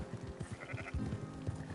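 Sheep in Red Dead Redemption 2 bleat in a run of short, wavering calls over a low, busy game background, fairly faint and with no talking.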